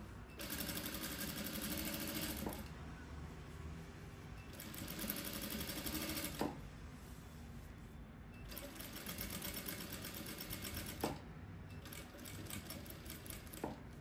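A straight-stitch sewing machine sews a shirred dress in three or four rapid bursts of stitching, each lasting a couple of seconds and separated by short pauses, close and alone without talk.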